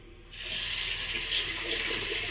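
Tap water runs steadily into a sink for rinsing while cleaning up during a wet shave, a close, continuous hiss that starts softly and swells after a moment to hold level to the end.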